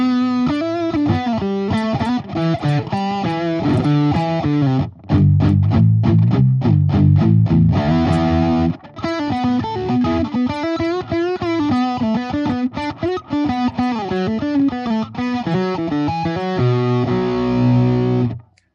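Heavily distorted electric guitar plays chords and riffs continuously through a Fuzz Imp Sender V pedal, with a thick fuzzy tone and brief pauses between phrases.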